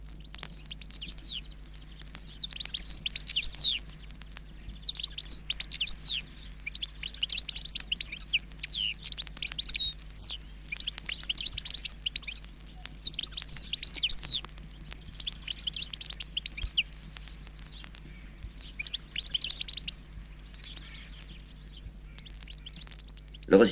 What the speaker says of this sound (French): Gais et enjoués, les chardonnerets aiment les grands arbres qui bordent les ruisseaux.